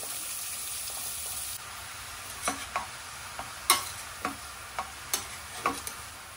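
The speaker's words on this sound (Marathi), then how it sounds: "तुपामध्ये हे किसलेलं गाजर टाकून छान परतून घेणार आहे" Grated carrot sautéing in ghee for carrot halwa: a soft, steady sizzle, joined after a moment by scattered spoon scrapes and clinks against the pan, fairly quiet with no talk.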